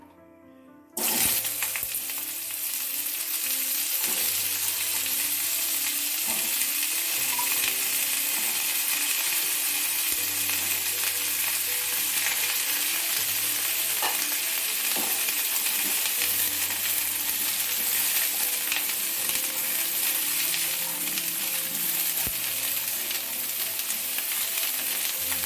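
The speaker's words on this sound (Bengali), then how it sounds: "এখন ফুলকপিগুলোকে আমি ভেজে নিব।" Cauliflower pieces frying in hot oil in a kadai make a loud, constant sizzle and crackle that starts abruptly and runs unbroken for about 25 seconds. Faint clinks occasionally surface through it.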